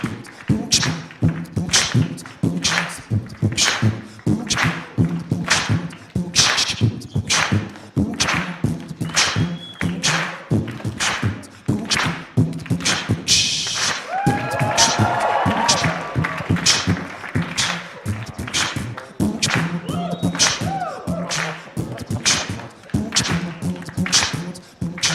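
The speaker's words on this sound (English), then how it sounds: "clap your hands, y'all." An audience at a NYTM tech meetup claps hands in a steady rhythmic beat for about 25 seconds, sharp regular claps with voices and music-like tones running underneath.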